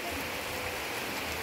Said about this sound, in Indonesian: di siang hari ini cuacane mendung merona dan hujan